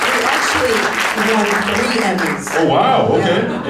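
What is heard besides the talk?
applause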